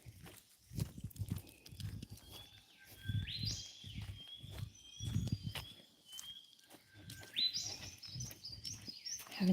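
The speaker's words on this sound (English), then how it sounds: "Haven't seen any live birds this morning, but I've heard them." Wild birds call outdoors on a mountain morning, a few faint, distant chirps and whistles over soft thumping footsteps and low rustling.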